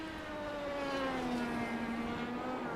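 An IndyCar in a sim racing game at Monza carries too much speed and oversteers on a corner exit, its engine whine gliding down in pitch as the car spins around, steady and fairly quiet.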